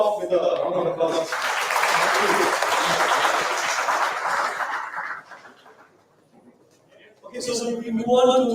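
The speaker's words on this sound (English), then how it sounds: "I think you should send them off with a round of applause" Audience clapping at a business literature festival in Bangalore, a dense burst that swells, holds for several seconds, then fades to near silence before a voice speaks again.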